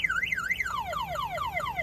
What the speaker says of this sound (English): The alarm is going to set off